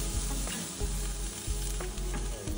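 Garlic searing alongside a sirloin steak in a hot pan, giving a loud, steady close sizzle and crackle with a few small pops and scrapes throughout.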